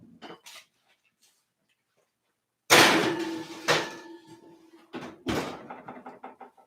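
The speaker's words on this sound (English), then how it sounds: "Okay, so I'm going to put them back in the oven." A pan of roasted vegetables is slid back into the oven: a loud metallic clatter and bang of the pan and oven door, then a few lighter knocks and rattles after a quiet pause.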